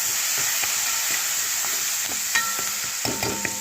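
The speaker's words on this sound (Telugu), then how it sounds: "ఇప్పుడు కరివేపాకు వేసుకోవాలి." Curry leaves fry in hot oil for a tempering, giving a steady close sizzle broken by clinks and scrapes of a spoon stirring in the pan, with no one speaking.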